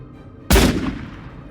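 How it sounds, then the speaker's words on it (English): A single sharp gunshot cracks out during an animal hunt, a loud, close blast whose echo decays into the open air over the next second. "One clean shot is always the goal."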